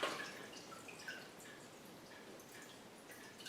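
Water drains from a tipped-over Phalaenopsis orchid pot into a bucket, a faint stream of soft drips and patters that trails off quietly, with no voices.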